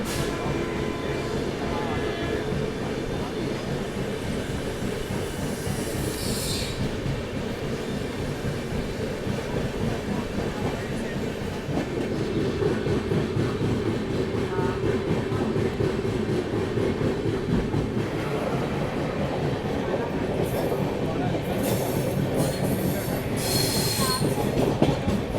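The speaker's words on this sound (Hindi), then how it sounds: "ठीक ठाक रफ्तार में आगरा कैंट स्टेशन को स्किप करते हुए ओवरटेकिंग गोंडवाना एक्सप्रेस।" Secunderabad Duronto Express train running at steady speed past Agra Cantt station while overtaking the Gondwana Express, a continuous loud rumble of wheels on rails with squealing and clatter throughout.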